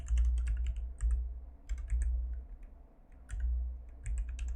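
Computer keyboard typing code in the Neovim editor, close and clear, with bursts of rapid clicky keystrokes separated by short pauses, no voices.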